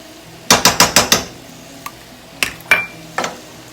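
Food mixed in a cooking pan with a utensil: a quick run of five metallic scrapes and knocks, then scattered single clanks against the pan after a short pause, close and fairly loud.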